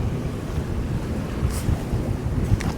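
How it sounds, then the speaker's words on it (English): Strong wind of about 20 knots roars across the microphone aboard a sailboat motor sailing out of a fjord, a loud steady rumbling wash with sea noise beneath and no talking. "I think we have winds, constant winds, up to 20 knots now"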